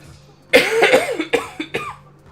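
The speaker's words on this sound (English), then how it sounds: "I still have a little bit of my cough." A person coughs in a fit of several harsh, close coughs that start loud and taper into shorter bursts, with no other sound around them.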